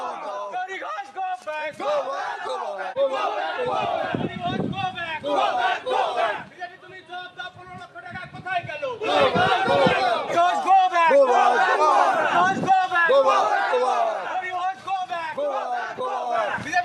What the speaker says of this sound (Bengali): বিজেপি প্রার্থী গৌরীশঙ্কর ঘোষকে গো ব্যাক স্লোগান